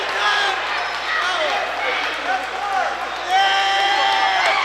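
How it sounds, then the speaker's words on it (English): A rowdy crowd in the stands at a college basketball game between Shawnee State University and Cumberland, a steady roar of shouting and whistles under a commentator's voice, swelling louder toward the end. "The crowd behind me over here, a little out of control, egging them on."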